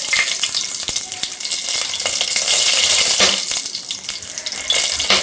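Whole spices crackle in hot oil for tempering: mustard seeds, marathi moggu, star anise, cardamom and cloves. A loud, steady sizzle with scattered pops runs through the whole stretch, with no talking.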